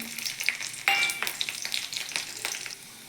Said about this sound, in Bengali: এখানে রসুন আর শুকনো লঙ্কা তেলে ভেজে নিচ্ছি।